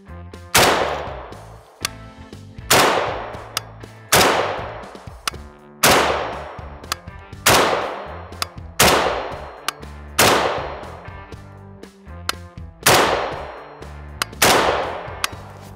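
Single shots from an AK rifle fired at a target at a shooting range, about eight loud, sharp reports spaced roughly every one to two seconds, each with a ringing decay, plus faint metallic clinks between shots.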